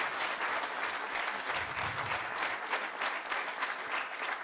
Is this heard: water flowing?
no